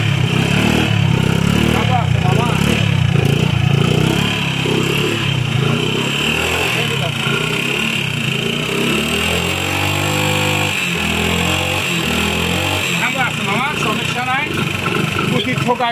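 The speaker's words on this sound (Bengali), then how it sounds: "পাওয়ার গাড়ি স্টার্ট হয়ে গেছে মামা" Engine of a Hero Honda 100cc motorcycle idles and runs after starting, a steady mid-pitched putter with slight revs, heard close and loud beneath someone talking.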